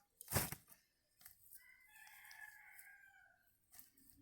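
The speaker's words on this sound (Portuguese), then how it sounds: "Os galos já estão cantando por aqui." A rooster crows loudly nearby, drawn out and rising, after a sharp rustling burst, with a shorter crow or cluck trailing at the end.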